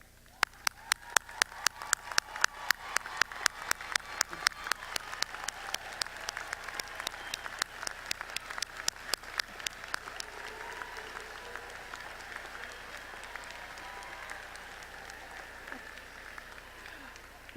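Graduation crowd applauding the parents of degree candidates at a December university commencement for a college of arts and sciences: a dense, loud wave of clapping that swells at once, holds steady, then gradually thins and fades.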